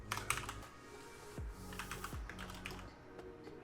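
Quick bursts of clicky keystrokes come from a computer keyboard, quiet and close, with short pauses between runs of typing and a couple of brief mouse-like clicks.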